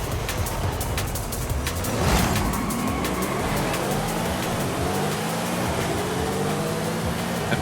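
Race cars launch off the line together in Forza Horizon 5, engines revving and climbing through gears in overlapping rising whines. The roar swells near the two-second mark, then holds loud and steady.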